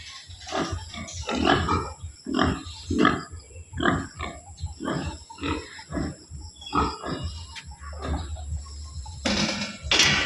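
Pigs on a farm grunt and oink in a steady run of short, close snorts and squeals, loud and irregular throughout, with a brief clatter near the end and no talk.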